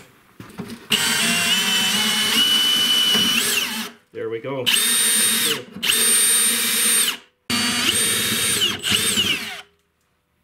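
A power drill runs in long loud bursts, stopping and restarting several times, with a brief voice between runs, drilling out a rusted, seized snowblower shear pin with cutting oil.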